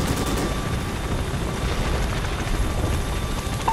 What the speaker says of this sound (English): Choppers are inbound